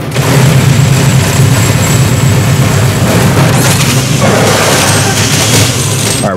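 Grenade explosions and heavy combat in the video game DOOM Eternal, a dense, continuous barrage of booming blasts and rumbling mechanical noise that stays loud throughout, with sharper bursts toward the end.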